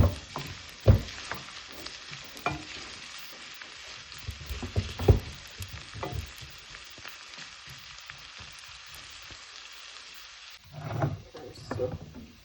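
Onion, pepper with its seeds and garlic sizzle steadily in a pot, a continuous crackling hiss broken by occasional clanks and stirring knocks, louder stirring near the end.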